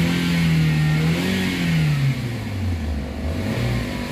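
A Toyota Avanza engine with an overheating problem revs up and down, its pitch rising and falling in long sweeps, loud and close with no talking.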